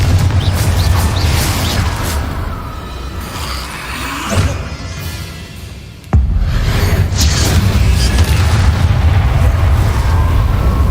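Explosive spell blasts from the Hogwarts Legacy video game, heavy rumbling booms layered in a dense, continuous battle din, with one sharp detonation cutting in midway and the roar holding loud afterward.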